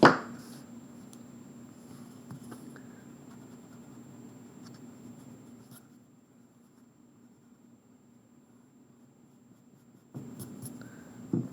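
A pencil scratches around on paper drawing a circle with a compass in a math lesson, a faint, close, continuous scraping that runs steadily for several seconds, stops, then resumes briefly near the end.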